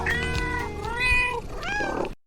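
A cat meows three times in close succession, loud and near, each call a drawn-out, wavering cry with no other sounds around it.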